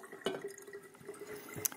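Water pours into a jar holding green drink powder, a faint trickle and splash with a few brief drips and clinks close by.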